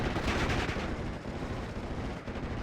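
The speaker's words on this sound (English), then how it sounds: "B-26B Marauder going to now be strafing this infantry" Gunfire from a B-26B Marauder strafing infantry in the Steel Division: Normandy 44 war game, a dense, continuous roar of rapid shots and rumbling impacts, loud and sustained throughout with no talk.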